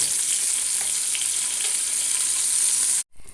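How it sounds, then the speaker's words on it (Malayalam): Chopped shallots fry in coconut oil in a pan with a loud, even, continuous sizzle that cuts off abruptly near the end. "കുറച്ച് ചെറിയ ഉള്ളി അരിഞ്ഞത് ഇട്ട് കൊടുക്കുന്നുണ്ട്"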